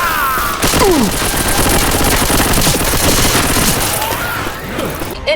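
Rapid, loud machine gun bursts in the zombie shooter Left 4 Dead 2, sustained fire with overlapping shots and booms filling the whole stretch with no pause.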